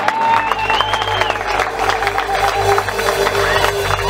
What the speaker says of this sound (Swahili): Shangilie tena Bwana Yesu kwa makofi.